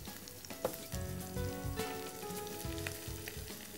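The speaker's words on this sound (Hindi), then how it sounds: "इसी के साथ डाल देते हैं हरा प्याज। ये हरा प्याज का वाइट पोर्शन है" Green onion whites fry in a wok for fried rice with a strong, continuous sizzle. Stirring clatters and scrapes are mixed in, and there is no talk.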